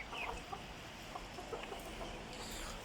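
Soft, scattered clucking and faint peeping from chickens and chicks in rainy weather, quiet and intermittent over a low background hum.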